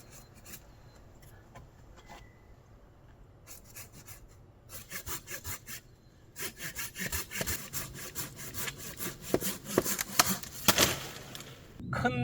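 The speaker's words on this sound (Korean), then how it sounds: "그래서 아래쪽을 약간 먼저 자르고 난 다음에 상단을 자르는 것이 좋습니다" A hand saw cuts through a thick crape myrtle branch about 8 cm across, starting with faint scattered strokes and building into a rapid, loud, rasping back-and-forth rhythm, close up with no talk.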